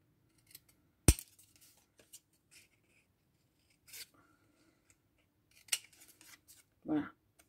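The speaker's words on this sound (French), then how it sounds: "Donc, je coupe en biais." Scissors cutting diagonally through a paper Christmas gift pouch, a few short crisp snips spread apart with quiet gaps, one sharper close cut, and a voice briefly in between.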